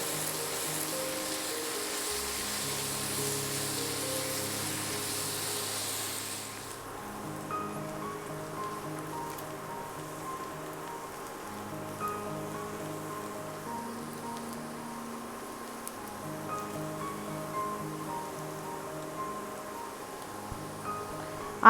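Sliced onions sauté in a pan for a Kerala village-style chicken curry, starting with a dense, crackling sizzle that drops after a few seconds to a softer, faint frying hiss beneath steady background tones.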